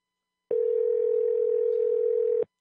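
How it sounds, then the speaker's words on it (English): A single steady telephone tone rings out for about two seconds on a call-in show. It sounds clear and alone, starting and stopping abruptly. "And the phone is ringing."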